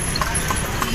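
Steady clip-clop of a horse's shod hooves pulling a carriage through Luneta Park in Manila, evenly paced and fairly close, with faint street ambience.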